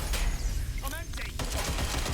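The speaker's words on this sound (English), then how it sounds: "Shots fired. Shots fired." Automatic gunfire in the video game Watch Dogs Legion, a loud, continuous volley of shots filling the whole moment, with a voice speaking partway through.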